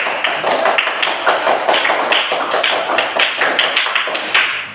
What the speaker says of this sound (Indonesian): tepuk tangan untuk kelompoknya Reza